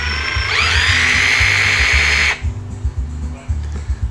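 A DeWalt 18-volt cordless drill whirs up to speed, holds a loud, steady high whine for about two seconds, then cuts off, leaving lower background rumble and knocks.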